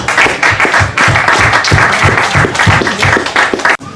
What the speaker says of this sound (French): On va applaudir nos intervenants déjà.